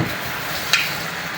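Chicken gizzards sizzle steadily in a frying pan, with one brief scrape of a stirring utensil partway through, close and soft.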